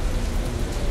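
Continuous rainfall in the video game Metro: Last Light, a steady, dense hiss of falling drops with no voices, heard for under a second.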